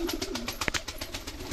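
Pigeons coo softly in a pigeon loft, with a low throaty burble and a brief close flutter or scuffle partway through, and no voices.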